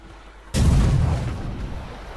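A barrel blows up near monsters in The Witcher 3, a sudden loud blast breaking a quiet scene, followed by a long rumbling decay with debris crackle, with no talking.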